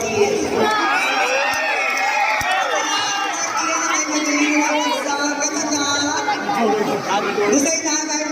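An audience at a Miss Gay pageant costume competition in Aguilar, Pangasinan shouts, cheers and chatters in a loud, dense hubbub, with excited children's voices and yelling rising and falling throughout.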